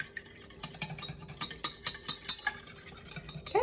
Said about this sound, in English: just give it a really good whisk